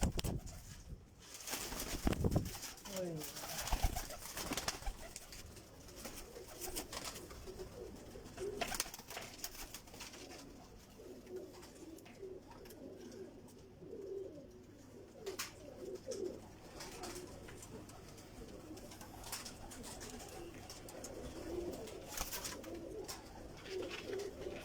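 Teddy pigeons coo softly and repeatedly over a faint, steady outdoor background, with occasional brief rustles and a wing flap heard nearby.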